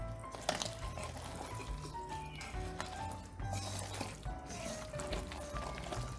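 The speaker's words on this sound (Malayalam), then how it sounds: "ഓഫാക്കി വെള്ളം വറ്റിച്ചെടുക്കാം." Water drains off pressure-cooked tapioca (kappa), a continuous splashing, gurgling pour with small clatters, close and fairly soft throughout.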